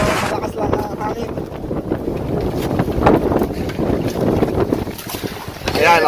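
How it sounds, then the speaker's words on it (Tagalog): Strong wind buffets the microphone aboard a small fishing boat out at night for squid, a steady loud roar with gusting rumble and water motion throughout, no voices heard. "Medyo malakas lang ang hangin."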